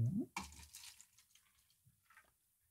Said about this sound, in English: you can fill that cup up with some water